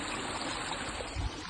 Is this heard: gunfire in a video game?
no